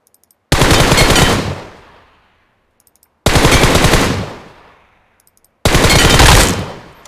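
Rapid automatic gunfire from PUBG, fired with a Logitech mouse macro script, comes in three loud bursts of about two seconds each, every burst ringing off into a decaying tail before a short silence.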